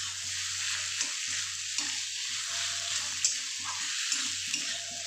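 Potatoes go into a pan of fried onion and garlic, setting off a steady close sizzle with soft stirring scrapes and light clinks throughout, no talking.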